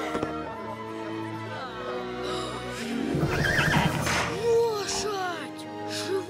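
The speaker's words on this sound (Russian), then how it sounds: "Лошадь живая. Откуда здесь лошадь?" A live horse whinnies and neighs amid a film scene's orchestral score and voices, its calls rising clearly over the music partway through.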